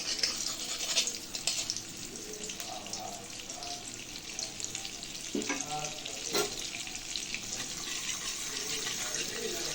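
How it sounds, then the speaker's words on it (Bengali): Butter and green chillies frying in hot oil in a pan while being stirred, a steady loud sizzle with scraping stir strokes and a few clinks, continuous throughout. "বাটারটা যতক্ষণ না পুরোপুরি লিকুইড ফর্ম হচ্ছে ততক্ষণ আমি এইভাবে ঘোরাতে থাকবো"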